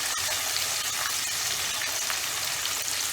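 Fish frying in hot grease, a loud, dense, continuous sizzle and crackle that stays steady and close with no talk.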